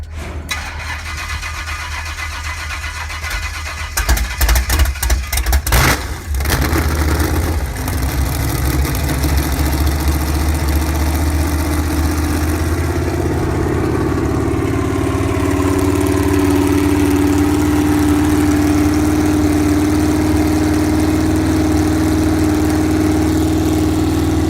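Chevrolet 396 big block V8 engine cranking over, then settling into a loud, steady idle with a deep low rumble and a rising tone, heard alone and close up.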